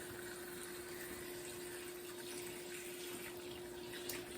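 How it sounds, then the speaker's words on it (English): Cold tap water runs steadily into a kitchen sink over chicken being rinsed, a constant, even rushing spray with a faint hum underneath and no talking. "Just gonna rinse the chicken off with some cold water."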